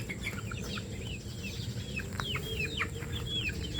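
Pet barbaro chickens clucking and chirping in short repeated calls over a steady rustling farmyard background, close by and fairly soft.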